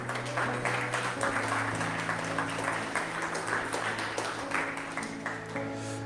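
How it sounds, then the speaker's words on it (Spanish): Congregation in a church applauding steadily and continuously, a dense wash of clapping under sustained organ or keyboard tones. "¿Cuándo le dan palmas al Rey?"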